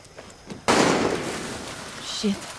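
A sharp, loud blast from gunfire in the Far Cry 6 video game cuts in abruptly after a quiet stretch and decays into a long noisy rumble, with a brief tonal blip toward the end.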